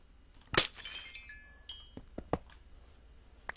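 Colored glass blocks shatter in a block-building video game: one loud, crisp smash with a ringing tinkle that fades, then a few softer clicks and pops as the play continues, with no voices.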